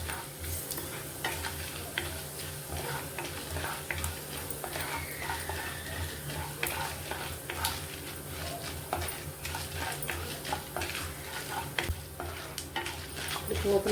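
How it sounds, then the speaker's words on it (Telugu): Tempering spices crackle and sizzle in hot oil over a medium flame, with steady stirring scrapes and ticking pops throughout, moderately close and without speech. "పోపులు బాగా ఫ్రై అవుతున్నాయి కదా."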